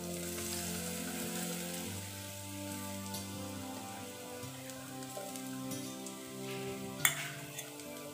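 Soft, steady sizzling of ground coconut sautéing in a frying pan, quiet crackles over a low background hum, with one sharp clink near the end.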